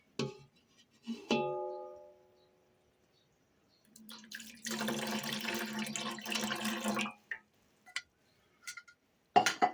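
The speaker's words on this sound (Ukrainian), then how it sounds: "слідом за гвоздикою додаю 150 мл оцту" Vinegar poured into marinated plums with cloves, heard as a steady liquid stream lasting about three seconds, set between a few sharp clinks of glass or utensils, with no voices.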